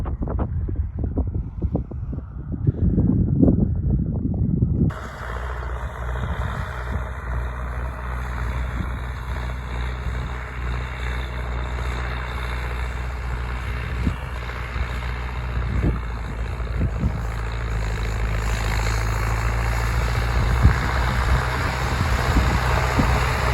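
An MTZ-892.2 tractor engine rumbles steadily and loud after a brief rustle, with wind buffeting the microphone throughout.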